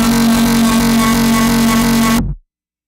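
A synthesized bass tone built with the Monster SL and shaped by a Flanger HL6 Plus drones loud and steady with a buzzy, harmonic-rich body, then cuts off abruptly with a brief fading tail.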